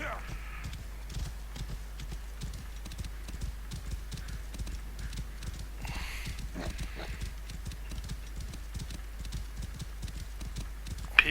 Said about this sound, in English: I decided I would call my horse, which I've done, and now we'll ride round this way to get to the marker